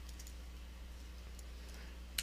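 A computer keyboard is tapped softly, with a few faint, scattered key clicks over a low steady hum and one slightly sharper keystroke near the end.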